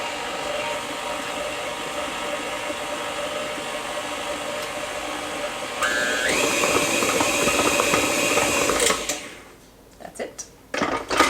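A stand mixer fitted with a paddle churns cookie dough for domino cookies in a steady, loud motor whir that rises in pitch partway through, then cuts off, leaving a few scraping clatters.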